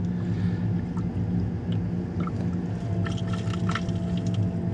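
A tap on a hydronic underfloor heating system in a VW Crafter camper van conversion agitates the water, making a steady churning, gurgling rush with faint squishy bubbling on top.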